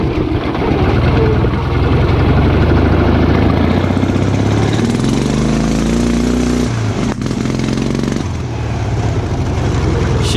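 Offroad tractor engine running loud and close as it shifts up toward fourth gear, a rough mid-pitched drone that changes pitch between gears, with brief dips during the shifts.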